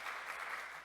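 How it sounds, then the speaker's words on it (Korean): A church congregation applauding after a call to praise God, a short, steady wash of dense clapping at moderate distance with no voices over it. "우리 하나님께 영광의 박수 올리겠습니다"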